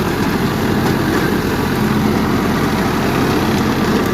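A Mahindra Yuvo Tech 585 50 HP tractor engine running close by, a loud steady diesel drone with even low throbbing and no change in pace.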